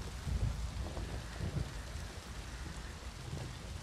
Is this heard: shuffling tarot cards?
no